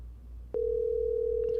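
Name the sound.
telephone ringing tone while placing a call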